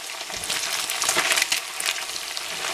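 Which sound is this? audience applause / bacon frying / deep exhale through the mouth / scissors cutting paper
bacon frying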